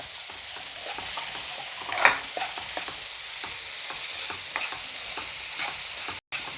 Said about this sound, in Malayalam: നമ്മുടെ ചെറിയുള്ളിയൊക്കെ നന്നായിട്ട് വഴന്ന് വരുന്നുണ്ട്